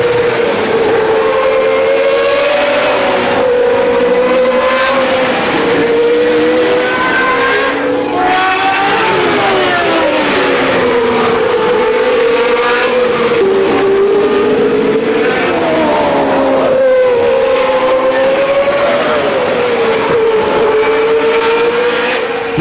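A race car laps a track, its engine note loud, near and continuous, rising and falling in pitch as it accelerates and slows through corners, with no pause throughout.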